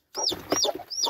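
Game hen clucking in a short, agitated run of three bursts, close and fairly loud, with no talk over it.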